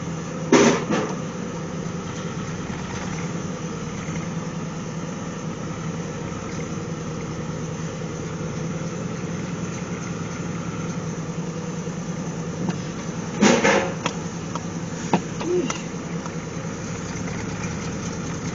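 A GMC Sonoma / Chevy S10 pickup engine idles steadily after starting, a low continuous rumble close by, broken by a couple of brief knocks and clunks.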